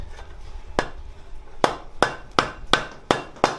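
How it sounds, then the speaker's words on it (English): Sharp, ringing hammer blows forging steel drawer pulls, one early strike then a steady series of six evenly spaced, close and loud. "So we're going to focus our hammer blows"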